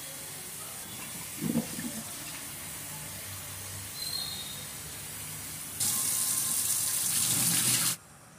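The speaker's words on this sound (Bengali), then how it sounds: "তো ডালগুলোকে ভালো করে ধুয়ে নিচ্ছি।" Mixed lentils for dal fry are washed in water: soft sloshing and swishing, a brief splash near the start, then a louder rush of running tap water for a couple of seconds before it stops.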